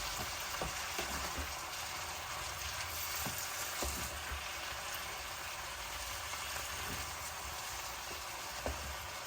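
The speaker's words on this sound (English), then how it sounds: "Allow it to simmer for a while I turn it." Vegetables for a salmon stir fry fry and simmer in a pan with a dense, even sizzle throughout, broken by faint occasional taps and stirs of a utensil, and no one speaking.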